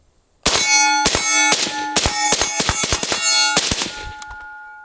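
An X95 Tavor rifle fired in a quick string of about a dozen loud, sharp shots with ringing metallic clangs, irregular spacing, then a lingering ring that fades out.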